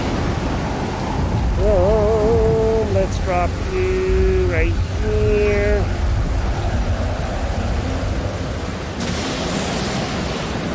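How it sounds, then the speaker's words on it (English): A raging storm in the survival game Stranded Deep, with a constant heavy wash of rain and rumbling thunder, while someone talks over it and a rising and falling tonal game sound plays briefly. "Man, that storm is raging."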